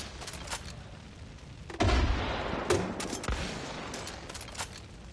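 Rapid gunfire with incendiary rounds in Far Cry 5, a dense burst of shots starting near the two-second mark and continuing in loud, uneven volleys over steady background game noise.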